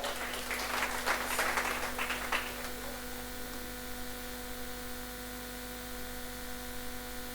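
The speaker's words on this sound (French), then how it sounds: "Je vous demande de l'applaudir très très fort." Ceremony audience applauding at a school district award event in Pikine Guédiawaye, Senegal: a short burst of clapping that fades after a couple of seconds, leaving a steady electrical hum.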